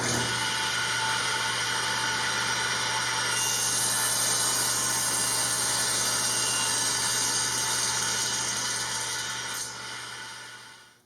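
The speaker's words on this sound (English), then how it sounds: "now temporarily screwing them together." Wooden blocks and panels being screwed together in a van build, with a steady, continuous power-driver whir running nearly eleven seconds before tapering off at the end, loud and close.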